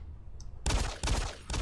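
Heavy bursts of gunfire from a Doom 3 co-op match, three loud dense volleys after a quiet moment, each hitting abruptly and cutting off.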